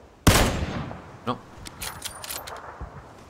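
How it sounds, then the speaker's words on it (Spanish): A gunshot rings out in a PUBG match, one sharp loud crack followed by a few fainter distant shots and clicks, with players talking over the game sounds. "He hecho disparo sin querer."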